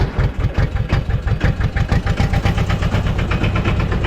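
A vehicle engine idles shortly after starting, a loud, close, steady low rumble with a rapid regular pulsing beat from the exhaust and no talking.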